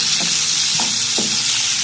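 Tomatoes cook in a pan with fried garlic, giving a loud, continuous sizzle close up with a few soft stirring knocks as they are mixed.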